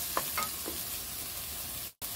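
Onions stir-fried in a pan with other vegetables, a steady close hiss of sizzling with a few light scrapes and clicks of stirring near the start.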